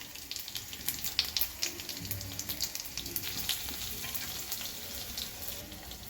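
Garlic, cumin, mustard seeds and dried red chillies sizzle and crackle steadily in hot oil, close and continuous, with scattered pops and no talking.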